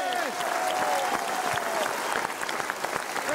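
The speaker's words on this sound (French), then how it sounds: "Je vous demande d'applaudir Ziz Dupanier." An audience at a show in Carcassonne breaks into loud, sustained applause, dense clapping filling the whole stretch, with a faint whistle near the start.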